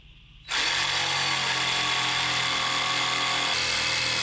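A jigsaw starts abruptly and cuts continuously through a wooden pergola rafter, a loud, close, buzzing whine with a rough rattling edge that holds steady throughout.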